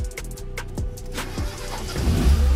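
A car engine at a tuning workshop cranks in several rhythmic pulses and then catches and runs louder once the accelerator is pressed, with no talking.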